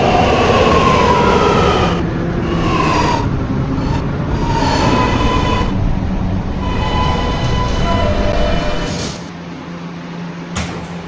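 An R211 subway train running in the Roblox game, with a loud steady rumble and rattling of the cars, several brief hissing bursts, and a drop in level near the end as it slows.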